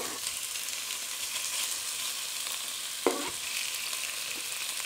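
Beef pieces browning in hot fat in a stew pot give a steady, close, crackling sizzle throughout, with a single sharp clunk partway through.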